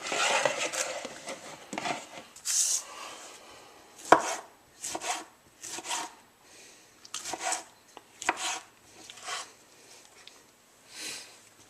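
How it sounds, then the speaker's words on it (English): A knife dices tomatoes on a cutting surface during trail-style outdoor cooking, giving close, crisp chopping strokes in irregular bursts with short pauses between runs. "I want to get them all diced up"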